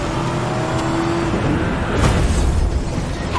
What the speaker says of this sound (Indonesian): Kwon-se memanfaatkan mobil yang terparkir untuk menghampiri pria itu.